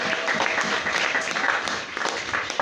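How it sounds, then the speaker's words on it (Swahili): A church congregation claps during a Sunday service, a brisk, fairly loud burst of many hands that continues steadily for a couple of seconds. "Makofi kwa Yesu."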